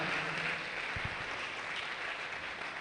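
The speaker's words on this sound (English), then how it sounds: "Let's make the applause louder than that." Workshop audience clapping for a chemical sciences student award winner, a continuous even wash of hands heard close and fairly loud throughout.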